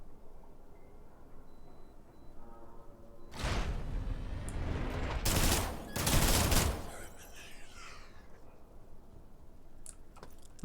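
Bursts of fully automatic gunfire in the System Shock remaster, rapid rattling volleys in two loud stretches, with faint clicks before and after.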